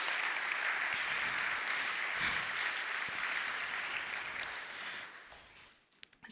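Audience applause at a Checkmk software conference: a dense, steady wash of many hands clapping that holds for several seconds, then thins out and fades to scattered claps at the end.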